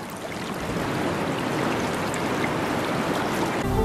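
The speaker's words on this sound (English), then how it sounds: "Rainwater, which collects in deep pools, is channeled along furrows in the rock surface" Rainwater streams along furrows in the rock of a Venezuelan tepui plateau, a steady, dense rushing wash of flowing water that holds an even loudness throughout, with no voices.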